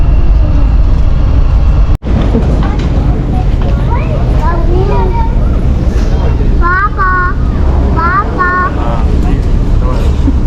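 An electric airport train in Dubai rumbles steadily and loudly throughout, with a sharp click near the start, while voices talk over it.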